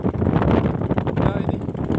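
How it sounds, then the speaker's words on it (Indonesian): Strong wind gusts buffet the microphone in an open bean field, a rough, roaring rumble that swells and dips over a couple of seconds, loud and close. "saya juga sudah mulai bergoyang karena diterpa angin yang kencang"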